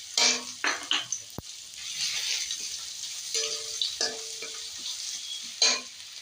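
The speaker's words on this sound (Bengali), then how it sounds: "ফোড়নে দিয়ে দেবো শুকনো লঙ্কা, গোটা গোলমরিচ, পাঁচফোড়ন আর তেজপাতা" Dry red chillies, whole black peppercorns, panch phoron and bay leaves spluttering in hot mustard oil, bursts of crackling sizzle with brief pops and a sharp knock, fairly quiet and close.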